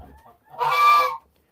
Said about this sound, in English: I think my barred rock is laying an egg right now.